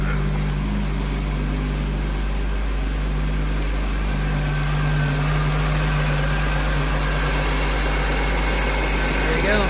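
A Honda car engine idles steadily after a belt tensioner replacement, a low continuous hum with no rattle, heard close and even throughout, with faint voices over it.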